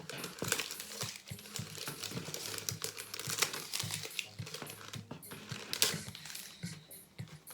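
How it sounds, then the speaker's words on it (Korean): Plastic vinyl wrap inside a flower box crinkles and rustles as it is pulled taut and cut, a close, quiet run of crackles and snips with no talk. "비닐이 박스 위로 보이지 않게 안쪽으로 해서 비닐을 잘라주세요"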